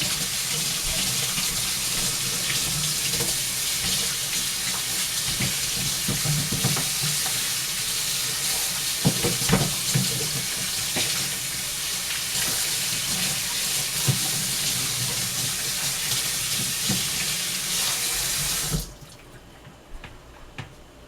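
Water runs steadily from a kitchen tap as food is rinsed in a strainer, a constant close hissing splash with small clatters, stopping abruptly near the end.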